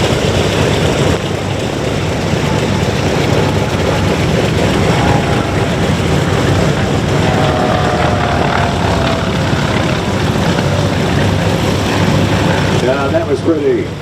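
A WWII fighter plane flies past at the Good Neighbor Day air show in DeKalb, its propeller engine making a loud, continuous, rough drone that holds steady for about fourteen seconds.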